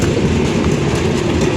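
The Up 733 Titumir Express pulls out of Saidpur on a hot, sunny day, with a loud, close, continuous rumble and clatter of wheels on the rails.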